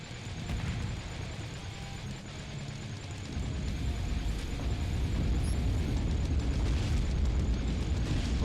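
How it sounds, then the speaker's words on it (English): A spaceship blowing apart in the space video game Spacebourne: a deep rumbling explosion that swells louder and keeps roaring steadily after the blast, no voices. "Well, that ship just blew the fuck up."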